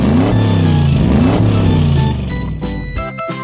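A toy motorcycle gives off a buzzy electronic engine-revving sound, rising and falling in pitch, loud and close, ending in a few choppy bursts.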